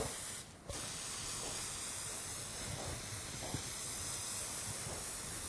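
A steady hiss of an aerosol can spraying cocoa butter onto a cake, continuous and fairly close, with a brief gap near the start before the spray resumes.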